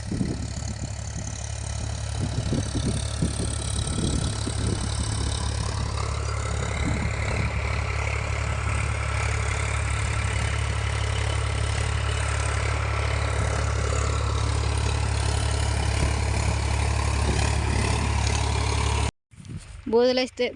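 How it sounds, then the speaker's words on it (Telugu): A tractor engine idles in a muddy field during seed sowing, a steady low rumbling drone, fairly loud and close, with faint voices now and then before it cuts off near the end. "ఈరోజు ఈ ట్రాక్టర్ మా చేలోకి వచ్చాక నాన్న అవసరం పడినామండి మేము"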